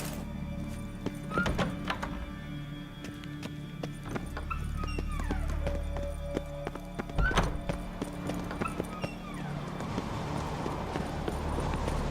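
Horses gallop in The Witcher 3 with steady clip-clop hoofbeats, a neighing horse and scattered impacts over a low rumble of game ambience, continuous and fairly close for the whole stretch.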